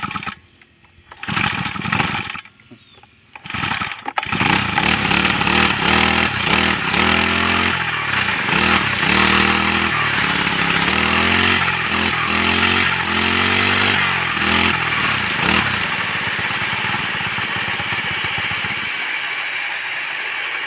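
A four-stroke grass trimmer engine with a fault that makes it stall or lose power when revved: a few short bursts at first, then a loud, close, sustained run with wavering revs that eases off at the end.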